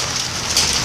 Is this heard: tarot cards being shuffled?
no